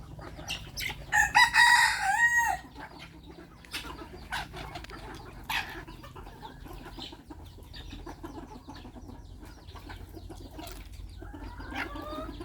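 A bantam rooster crows loudly near the start, followed by bantam chickens clucking intermittently in the background at feeding time on a farm in Chanthaburi.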